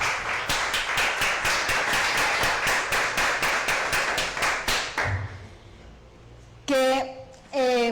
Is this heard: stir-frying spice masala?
no